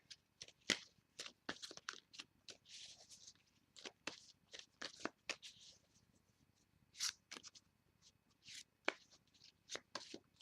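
A deck of tarot cards is shuffled close by in quick, crisp bursts of riffling and slapping, with short quiet gaps between bursts in an otherwise silent room.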